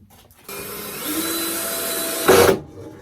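A power tool drives bolts back into a newly added planer in a crowded woodworking shop, a steady two-second whir that ends with a brief louder burst as each bolt seats, close and with no talking.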